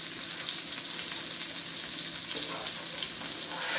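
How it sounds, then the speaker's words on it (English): Onions sizzle and crackle steadily in a hot pan, a close, continuous hiss with small popping spatters throughout. "It's frying away."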